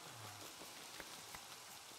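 Night rain in the video game Farming Valley falls as a soft, steady hiss with faint scattered drop taps, quiet and continuous throughout.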